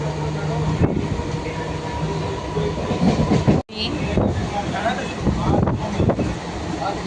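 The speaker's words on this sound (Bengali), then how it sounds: "উঠে বললাম ট্রেনে, ট্রেন ছেড়ে দিয়েছে।" A train rumbles along the rails with rhythmic clickety-clack and rushing wind, loud and close, with a brief dropout midway and voices faintly mixed in.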